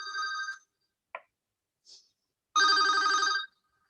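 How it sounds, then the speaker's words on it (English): A mobile phone ringing during a lecture: a short electronic tone, two brief chirps, then a longer loud warbling ring, with silent gaps between bursts. "Uh-oh, I forgot to switch off my phone."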